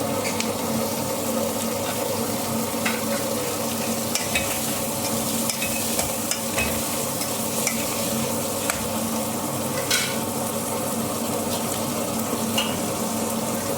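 Chopped tomato and onion sauté in a pan for sambar, a loud, continuous sizzle broken by repeated scraping and stirring clicks of a spoon against the pan, with no talking.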